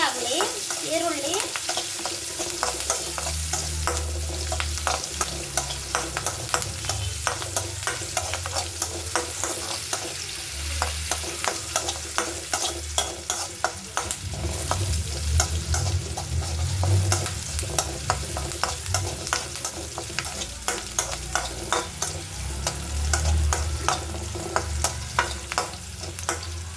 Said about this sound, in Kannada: ಈ ಕರ್ಬೇವಿನ ಸೊಪ್ಪು, ಹಸಿಮೆಣಸಿನ್ಕಾಯಿ ಮತ್ತು ಈರುಳ್ಳಿ ಸ್ವಲ್ಪ ಗೋಲ್ಡನ್ ಕಲರ್ ಬಂದು ಫ್ರೈ ಆಗಲಿ